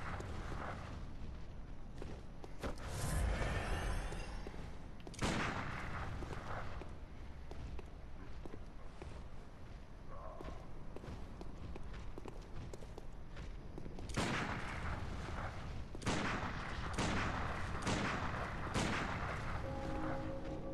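Gunshots ring out in the video game Bloodborne as several sharp, spaced bangs punctuate a busy stretch of footsteps and scuffling, moderately loud and irregular in timing.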